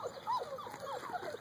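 A six-week-old puppy whimpers and yips in a short series of high, whiny cries, close by, with faint background voices of people around the litter.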